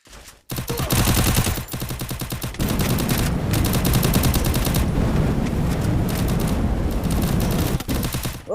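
Rapid automatic gunfire in a shooting video game, dense sustained bursts of shots that start after a brief pause and continue almost without break, loud and close.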